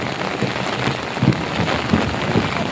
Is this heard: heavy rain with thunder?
yes